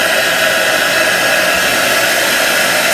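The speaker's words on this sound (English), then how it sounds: "I'm using a heat tool, which is a very hot heat." A heat tool blows hot air steadily onto a pillow cover, a loud, continuous hiss close up with no pauses or talking.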